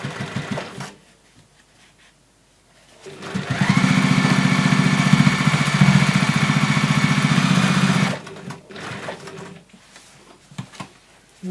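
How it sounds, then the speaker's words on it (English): A sewing machine stitches a bag in one steady, loud run of about five seconds, with quieter handling noises before and after. "Now we're going to sew"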